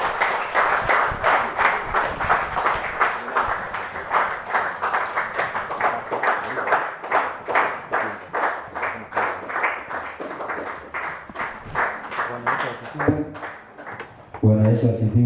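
A church congregation clapping together in a fast, even rhythm, many hands striking in unison for over ten seconds before the beat breaks off, with voices mixed in.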